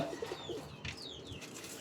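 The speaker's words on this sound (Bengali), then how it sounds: "এই নটটিও মাদিটিকে পেয়ে কি সুন্দর ডাকতেছে" Soft, low coos of a male pigeon with a female pulse in a short burst at close range in a rooftop aviary, with faint chirps and a little background rustle.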